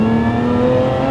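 Lotus Emira with a supercharged engine and Eventuri intake pulling hard in second gear on a B-road, a loud, steady engine drone with a slowly rising pitch, heard from inside the car with no talk.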